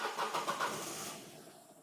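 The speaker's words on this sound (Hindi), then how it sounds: "तो गाड़ी को करते हैं स्टार्ट।" A car engine cranks and catches during a workshop check for a pickup fault on a three-cylinder engine, a brief burst of starter whirring that settles into a steady running hum.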